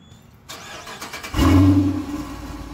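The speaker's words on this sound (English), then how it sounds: "Here go a regular startup for y'all though." A car engine cranks briefly, then catches and fires up with a loud surge before settling into a steady idle.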